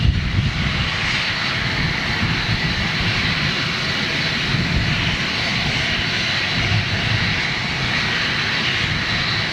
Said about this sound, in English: I love the sound of a jet engine at idle